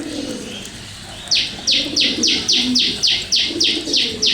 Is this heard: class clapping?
no